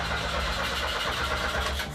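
A Ferrari Dino fitted with a Lancia engine cranks and fires, a steady mid-pitched engine rumble holding throughout at moderate distance.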